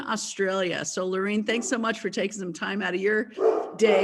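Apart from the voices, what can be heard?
dog barking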